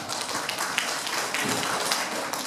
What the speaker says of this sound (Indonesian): Beri aplaus untuk kopi Reci Bumbu Arab